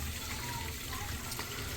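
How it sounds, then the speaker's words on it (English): Water leaks from an ABS drain pipe inside a wall and streams down the pipe in an upstairs room, a steady, faint rushing wash with no clear breaks. "you can see the water just stream down the pipe"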